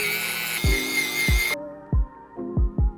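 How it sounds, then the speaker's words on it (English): A Dremel rotary tool fitted with a steel drill bit whines at a high steady pitch while working on a Nike shoe sole, then cuts off, followed by several dull close knocks and taps, with no talking. "I'm gonna be removing the 60 grit sanding bit and replace it with the steel drill bit."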